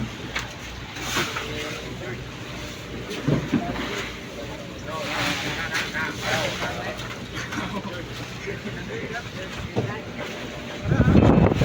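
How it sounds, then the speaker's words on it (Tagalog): Gusty wind buffets the microphone in uneven rushes, with a voice talking underneath and a loud blast of wind at the end. "Siguro dinig nyo po ang ingay ng hangin."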